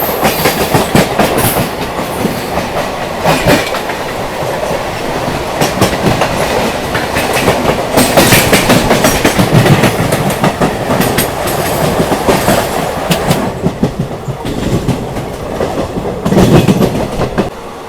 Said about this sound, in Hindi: Crossing with Kashi Mahakal express.